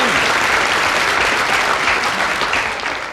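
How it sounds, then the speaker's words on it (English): An audience claps in a steady, dense round of applause at a school music competition, loud and close throughout the short burst. "Round of applause."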